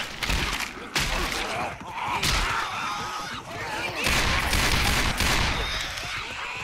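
A 50 caliber gun fires repeatedly in The Lone Gunman zombie video game, heavy booming shots in bursts a second or so apart, loud and close with crashing impacts between them.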